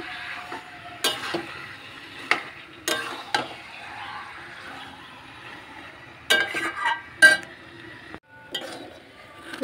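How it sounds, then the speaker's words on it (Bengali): Meat for Bengali kosha mangsho fries in a pan under scattered spoon scrapes and clinks against the metal, with a soft sizzle running beneath the irregular stirring strokes. "এই দেখো কষাচ্ছি।"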